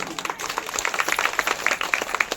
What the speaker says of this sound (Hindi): एक बार हमारे लिए ना सही अपने लिए जोरदार ताली बजा दीजिए